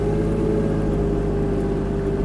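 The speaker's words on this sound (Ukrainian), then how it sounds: "Трактор вже можна розвернути." A Kubota KL-25 Japanese mini tractor's engine runs steadily while the machine turns, giving a continuous, loud low drone with a constant pitch and no talking.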